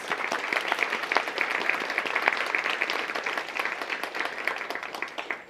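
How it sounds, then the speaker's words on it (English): An audience at a policy gathering claps for event sponsors, a soft, even patter of many hands heard from some distance and holding steady before tapering off at the end. "Let's give a round of applause to our sponsors"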